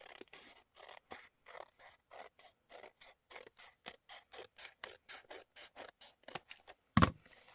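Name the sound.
scissors cutting open a paper envelope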